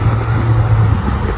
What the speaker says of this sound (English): most of the times I take bus number 54. Which is at the background, you can see it.